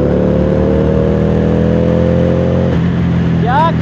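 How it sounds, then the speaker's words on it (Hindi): Harley-Davidson cruiser motorcycle engine pulling hard in first gear, a loud, steady low rumble with rising pitch that drops as the rider shifts near the end. "गाड़ी में नो वाइब्रेशन, वाइब्रेशन है नहीं, स्मूथ साउंड है गाड़ी की।"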